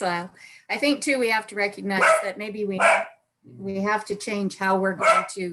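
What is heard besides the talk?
dog barking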